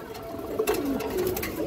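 A large silver Bagha pigeon, one of a matched breeding pair, gives a soft, low coo close by, brief and quiet against a light background hiss.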